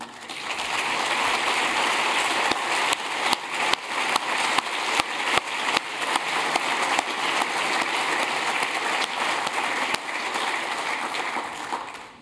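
Delegates at a national sports federation's 2017 elective general assembly applaud by acclamation, a dense, sustained wash of clapping hands filling the hall for about twelve seconds with a few sharper claps standing out.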